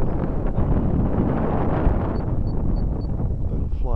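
Steady gusty wind of about 8 to 16 mph roars across the microphone during an E-flite UMX Carbon Cub SS RC plane flight, loud and continuous, with a faint high motor whine.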